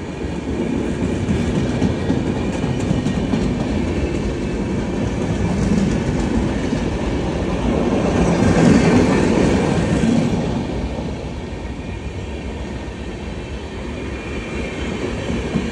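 The Vikramshila Express passes slowly in heavy fog, a steady rumble of wheels and carriages with faint clatter that swells mid-pass and then eases, continuous and fairly close, no voices.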